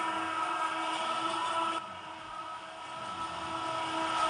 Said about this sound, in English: One more tram just pass by.